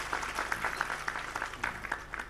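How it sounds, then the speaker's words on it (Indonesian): Audience clapping for a newly introduced regional police chief at a pesantren religious gathering, a fairly quiet, scattered patter of hands with distinct individual claps over a low hum. "Tepuk tangan untuk Pak Kapolda."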